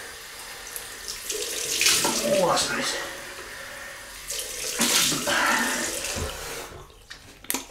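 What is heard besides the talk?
cold water running from tap for razor rinse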